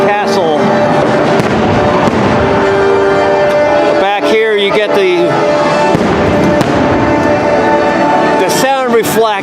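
Fireworks burst over Magic Kingdom at Walt Disney World, loud continuous booms and crackles echoing off buildings, with music and a person talking over the show.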